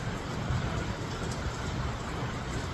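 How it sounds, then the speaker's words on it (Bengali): Heavy rain pours down in a dense, steady hiss that stays constant and fairly loud throughout, with no voices. "আর এখন জুড়ে নাইমা গেছে বৃষ্টিটা।"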